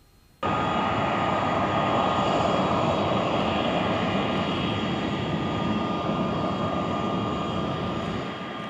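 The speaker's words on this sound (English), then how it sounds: "Flogger 1 ready to taxi to 3-1" A MiG-23 Flogger jet engine roars loud and steady while the aircraft taxis, a dense broadband whine and rumble kicking in abruptly and holding close for several seconds before easing slightly.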